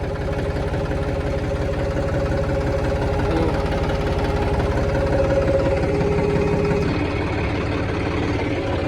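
A tractor engine idles with a steady, low knocking chug, close and continuous throughout, with no voices.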